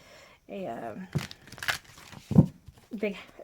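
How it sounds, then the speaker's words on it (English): Large tarot cards from a Mermaid Tarot deck shuffled by hand, giving a few crisp papery riffles and crinkling bursts spaced between quiet moments, close to the listener. "they're too big for me to rifle shuffle this way"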